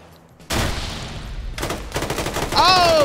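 M249 machine gun fire in a competitive shooter match, a sustained rapid burst starting abruptly and rattling on continuously at close range, with a brief high electronic tone near the end.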